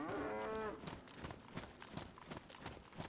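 A single loud cow moo in a video game opens the sequence, followed by clip-clopping hoofbeats and faint background game ambience.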